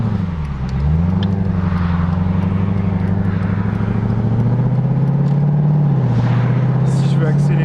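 Mercedes SLK 55 AMG V8 coupe engine droning steadily as the car drives and accelerates, with rising harmonic tone, loud and close inside the cabin, while people talk over it.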